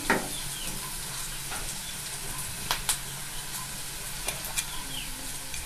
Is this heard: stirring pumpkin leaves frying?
yes